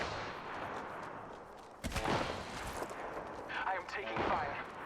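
Bursts of gunfire in the Apex Legends video game, a sharp onset of shots followed by sustained firing, with a player talking over the action.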